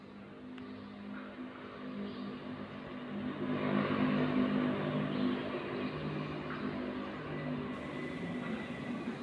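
A pink intercity bus idles and then revs its engine on the route from Khon Kaen to Maha Sarakham, a steady low rumble that swells briefly midway and continues as a droning hum.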